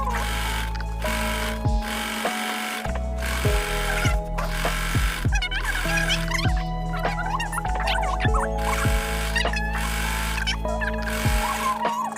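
A sewing machine runs steadily as it stitches the side seam of scrunchie fabric, its motor whirring continuously with brief shifts in speed and small mechanical clicks, with no voices.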